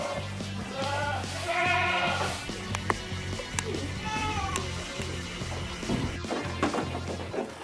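Goats bleating on a farm where goats are milked, several repeated nasal bleats rising over a steady low engine-like hum, with clatter and thumps in the background and no clear talk.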